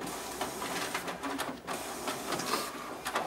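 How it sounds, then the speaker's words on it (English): A Xerox WorkCentre 7435 copier's document feeder pulls pages through with a steady whirring, rattling mechanical hum and repeated brief clicks and swishes, loud and continuous across the whole stretch without any talk. "And there we have our document feeder working"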